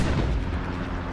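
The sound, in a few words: artillery fire in the video game Hell Let Loose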